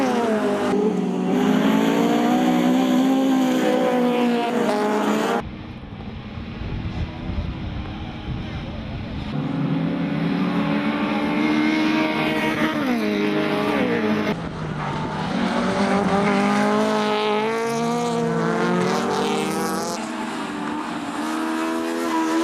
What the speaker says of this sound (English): Race 1 of the SLH 1600 with its Honda Civics was next in line